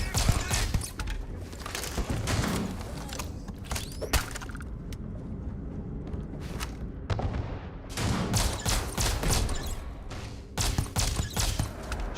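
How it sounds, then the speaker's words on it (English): Enemy gunfire in the sci-fi shooter Starfield, sporadic bursts of shots and impacts cracking out at moderate loudness over a busy game soundscape with scattered bangs. "You're just going to start shooting at me?"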